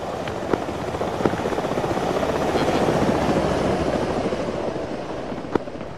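A helicopter in the video game Arma 3 thrums loudly and continuously, its rotor wash swelling to a peak midway and then easing off, with a few sharp clicks on top.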